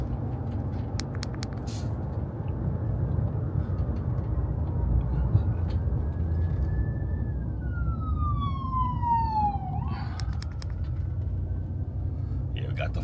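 An ambulance siren wails in from a distance over low traffic rumble, one long tone sliding downward, followed by a brief burst of yelping sweeps.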